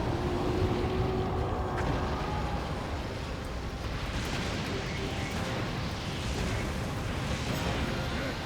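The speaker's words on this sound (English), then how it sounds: "Look at all those explosives" Continuous rumbling explosions and booming firepower from a battle in Hyrule Warriors: Age of Calamity, a dense, steady roar of blasts lasting throughout with faint voices underneath.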